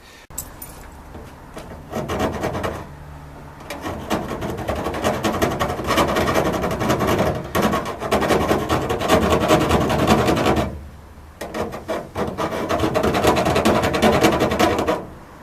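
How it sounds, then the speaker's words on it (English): A small hand file rasps back and forth against a part in rapid scraping strokes, close and fairly loud, running in long bursts broken by brief pauses. "This is the smallest file I could find. I think it's doing an alright job."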